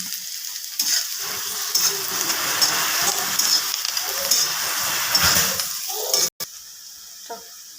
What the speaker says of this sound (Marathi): आपण कांदा टाकून घेतलेला आपल्याला मसाला टाकून घेतो त्याच्यामध्ये